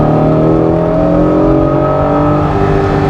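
A first-generation Honda NSX accelerates on the Ashinoko Skyline mountain road, its loud, close engine note climbing smoothly and steadily with no talking.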